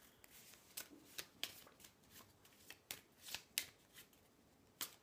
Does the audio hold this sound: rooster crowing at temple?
no